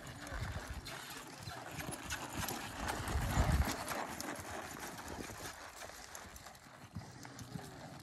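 Hooves of a Quarter Horse clip-clop rhythmically on the ground as it moves steadily nearby, with faint voices in the background.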